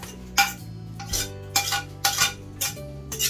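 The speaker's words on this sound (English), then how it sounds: "So I'm going to put these all in here and then give it a stir." Mashed bananas being stirred in a bowl for banana bread, with repeated clinking scrapes of a utensil against the bowl in an uneven rhythm, close and moderately loud, no talking.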